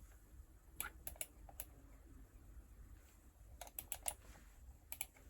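Quiet clusters of keyboard key presses, typed in short bursts with pauses between, close by in a hushed room, on an Amiga computer keyboard.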